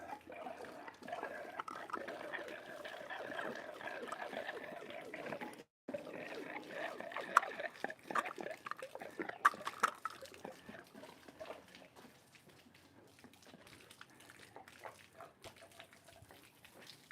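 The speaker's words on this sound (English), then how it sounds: "some of the stuff that we vacuumed up is going to siphon down there" Murky swamp-pool water siphons down through a pool vacuum hose set on the deck, a steady gurgling trickle that runs for several seconds, breaks briefly, then resumes with scattered drips before fading to a faint, quieter flow.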